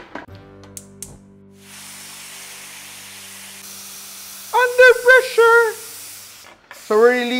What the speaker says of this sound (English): So we're releasing some steam, not some, but all of the steam so that we can open our pressure cooker safely